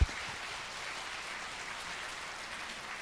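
An audience applauds after a two-hour lecture in a hall, a steady wash of many hands clapping at moderate distance for the whole stretch.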